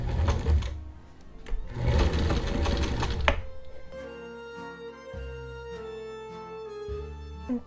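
A sewing machine stitches a zigzag seam on fabric in close, rapid bursts for a few seconds, then gives way to a steadier, quieter tonal hum.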